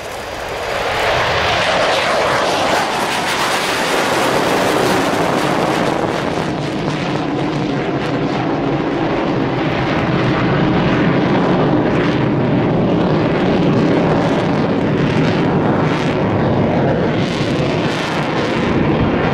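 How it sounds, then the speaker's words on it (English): A Swiss Air Force F/A-18C Hornet jet roars through a flying display at the Royal International Air Tattoo, a loud, sustained jet engine rumble with wind buffeting as it passes. "On the roll now, the Swiss Air Force FA-18C Hornet."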